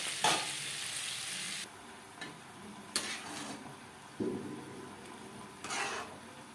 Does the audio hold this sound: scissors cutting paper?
no